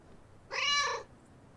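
One clear, mid-length cat meow in the video game Calico, close and bright against a faint background hum, with no voices.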